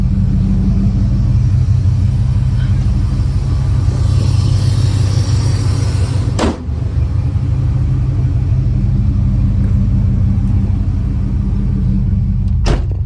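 A 1986 Buick Regal G-body with a 455 big block engine and Holley EFI pulls away on a neighborhood street, a loud, steady, deep engine rumble throughout, with a brief knock partway through and no talk.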